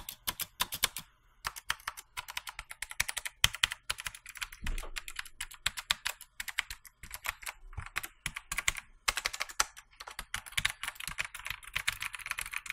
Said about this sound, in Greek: ο ήχο του είναι ακριβώς πολύ κοντά στον ήχο που κάνουν οι μπλε switches, οι μπλε διακόπτε